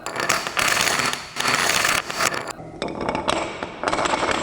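Dominoes toppling in a continuous rapid clatter from a flip switch field starter, a dense loud rattling run lasting several seconds with a brief dip midway.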